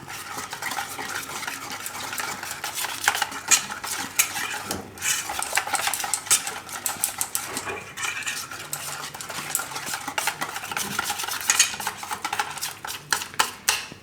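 A spoon clinks and scrapes steadily against a pan as spices are stirred into a mixture for Gujarati pudla made from leftover rotli, the busy metallic rattling going on throughout with no talk.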